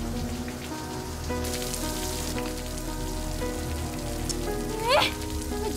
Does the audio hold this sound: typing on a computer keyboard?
no